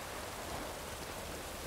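Steady rain falls in the video game The Witcher 3, a dense, even hiss that continues without pause for the whole short stretch and has no speech over it.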